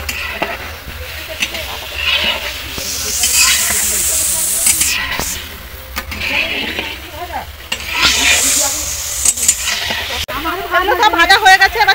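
Food frying in hot oil while cooking for a New Year picnic, a crackling sizzle with stirring clatter under intermittent talk, busier near the end.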